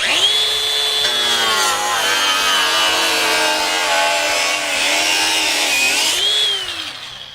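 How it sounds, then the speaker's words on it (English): A small hand tool with a carbide blade cuts through a thick sansevieria plant leaf, giving a steady, close grinding rasp that holds for about six seconds before fading. "this right here is just a little tool that has this carbide blade on here that can cut through all kinds of stuff"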